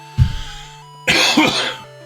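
Two close coughs, a short one followed by a longer, harsher hacking cough, with no talking.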